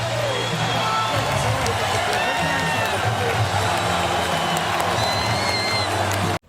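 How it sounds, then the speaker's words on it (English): A basketball arena crowd roars steadily at the final buzzer, a dense, loud wall of cheering and clapping that holds throughout before cutting off abruptly at the end. "this crowd ready to roar when the final buzzer sounds"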